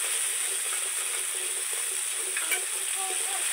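A spice paste with ground melon seeds and cashew sizzles in hot oil for a vegetarian soybean dish, a soft even crackle with faint stirring scrapes, fairly quiet and steady.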